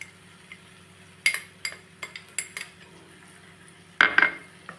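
A spoon stirs tomato and taro curry in a pot, giving scattered metallic clinks and scrapes over a faint steady hum, with a louder burst of clattering toward the end.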